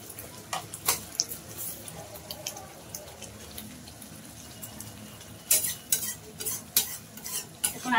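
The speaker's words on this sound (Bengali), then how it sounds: "আরো কয়েক মিনিট ভালো করে নাড়াচাড়া করে কষিয়ে নেব।" Spiced masala with onion, ginger, salt, sugar and a splash of water stirred and fried in a pan for a lentil dhoka curry gravy, a spoon scraping in scattered strokes with light sizzling, louder and busier toward the end.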